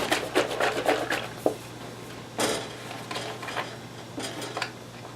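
A spoon stirring coffee with soy in a cup, quick clinking taps against the cup in short bursts, close and fairly clear, separated by brief pauses.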